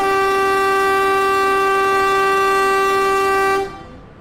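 A loud, steady train horn blasts from the departing Doho Penataran economy train, a single sustained tonal note held for several seconds before cutting off abruptly, heard alone.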